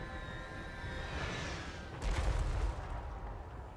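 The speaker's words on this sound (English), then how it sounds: "So now we've got our great cannon as well." Great cannon firing in the fantasy battle game Total War: Warhammer 3, a single deep booming shot with a low rumble over ongoing battlefield din and background music, loud and fairly close.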